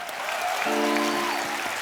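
Studio audience applause on The Kapil Sharma Show, a steady broadband wash of clapping that holds loud and even for the whole stretch, with a brief musical tone riding underneath partway through.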